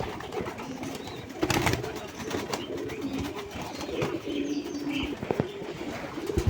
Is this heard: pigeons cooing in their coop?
yes